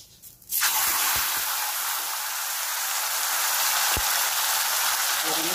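Taro leaves hit a hot pan with a sudden loud sizzle that holds steady, broken by a few soft clinks of utensils, for a dish of taro greens cooked with hilsa fish head.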